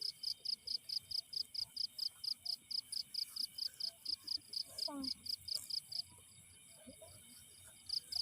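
A cricket chirps in a steady, evenly spaced pulsing rhythm, faint and close, with soft murmuring voices and a brief bird-like call beneath.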